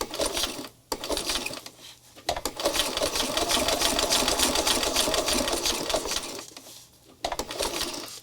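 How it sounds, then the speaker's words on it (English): A sewing machine stitching a fabric spirit doll, its needle running in a fast, steady mechanical whir close by, pausing briefly a few times and restarting, with no talking. "once I get past this curve right here, then I'm going to back stitch a couple stitches and stop"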